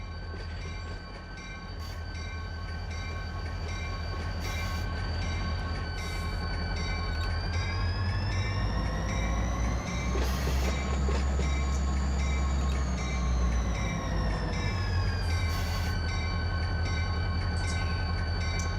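Locomotives rumble steadily in the Run 8 train simulator game on the Los Angeles Junction Railway, with a sustained low engine drone, rail noise and rising and falling tonal whines, moderately loud and continuous with no talk.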